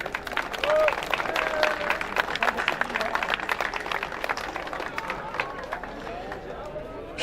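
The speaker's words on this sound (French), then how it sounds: "Applaudissements nourris." Loud sustained applause from an audience at a prize-giving ceremony for the Châtel historic hill climb, dense clapping throughout with a voice briefly heard over it.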